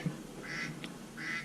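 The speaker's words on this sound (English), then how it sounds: "You might hear a duck thing in the background, but it's just my text thing" A phone's duck-quack text message notification tone sounds twice, short nasal quacks standing out clearly over a steady background hiss.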